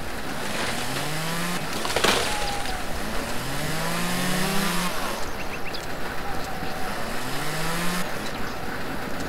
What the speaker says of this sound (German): Kettensäge weg.